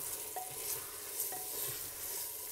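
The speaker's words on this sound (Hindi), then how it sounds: "2 से 3 मिनट तक चिकन को फ्राई करने के बाद अब मैं इसमें 1/2 जिंजर डालूंगी" Chicken pieces frying in a pot with ginger added, giving a quiet, soft sizzle with light stirring scrapes over a couple of seconds, faint and close, with no voices.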